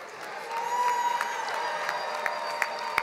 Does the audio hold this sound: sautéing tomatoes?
no